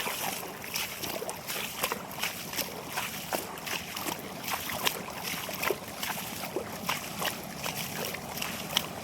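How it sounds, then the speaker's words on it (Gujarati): Irrigation water gushes from two pump motors onto a chickpea farm field, making a constant, close rushing and sloshing wash with small splashy bursts and no voices. "બે મોટરનું પાણી ચાલુ છે."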